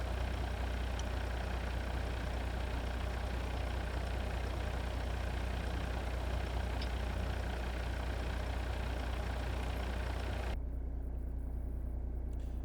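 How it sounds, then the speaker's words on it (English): A truck engine idles in a truck simulator game, a quiet, steady low drone that cuts off abruptly near the end. "So is EVR the person who made the sound for this truck?"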